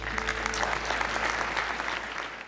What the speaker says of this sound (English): A big round of applause for Stef and Katrien Wolpert.